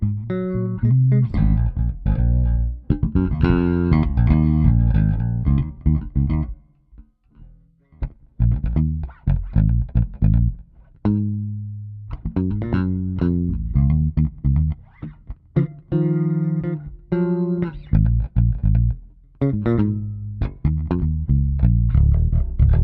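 A Fodera bass guitar through a Quad Cortex spring reverb block plays a groove of plucked notes with a subtle springy reverb tail, occasional pauses between phrases, close and clear.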